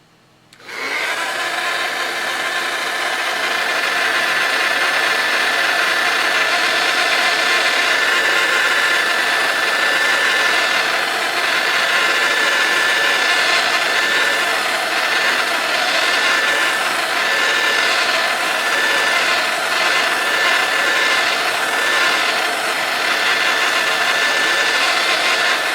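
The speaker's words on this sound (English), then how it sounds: "I am going to give them a blast with the heat gun to make sure they are lovely and dry" A heat gun blasts hot air over freshly painted craft unicorns, a loud, steady, close whooshing roar that runs unbroken for the whole stretch with no talking.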